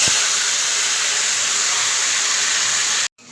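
A small-fish mixture with potato, tomato, chopped onion, green chilli, turmeric and spices goes into a hot wok, giving a loud, steady hissing sizzle close up that cuts off abruptly near the end.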